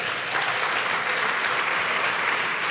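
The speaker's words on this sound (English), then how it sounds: "I think that deserves a round of applause for that." A live entrepreneurship event audience breaks into dense, even applause that holds at a steady level for nearly three seconds, with no one speaking.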